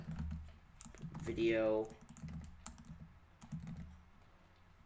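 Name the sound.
typing code on a computer keyboard in Xcode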